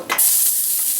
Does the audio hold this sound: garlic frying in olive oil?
yes